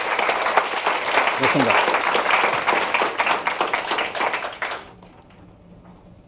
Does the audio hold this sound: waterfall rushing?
no